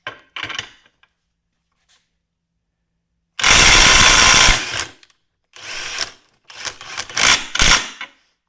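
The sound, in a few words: Metabo 18V brushless impact driver breaking loose a bolt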